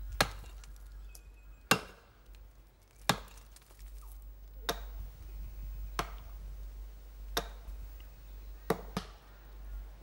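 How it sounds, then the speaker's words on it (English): Sharp chopping strikes from trees being chopped down ring out one after another at an uneven pace, each a crisp knock against a quiet, low rumbling background. "No matter how thick the trees are, the women do not take long in chopping them down."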